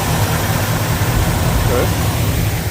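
Classic car engine idling steadily at a car show, a low rumbling drone running continuously through the moment with people talking over it.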